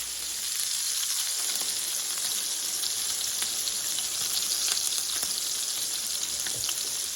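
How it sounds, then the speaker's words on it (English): Pork chops fry in a hot pan, giving a steady, close, even sizzle with fine popping crackles that runs unbroken from start to finish. "So we're going to cook these about 3 minutes and check them to see if they're crispy"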